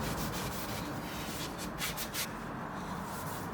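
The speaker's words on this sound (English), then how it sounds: "Just going to give it a polish." Handmade wooden piece being polished by hand with a cloth, a dense, continuous scratchy rubbing that runs steadily throughout with small strokes of variation, close and fairly loud with no talk.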